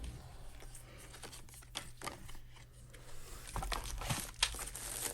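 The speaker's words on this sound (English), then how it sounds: "And pulling out the plastic here." Plastic packaging crinkling and rustling up close as an iFi Zen Can Signature headphone amplifier is unboxed, irregular crackles and rubs that get busier and louder in the last second or two.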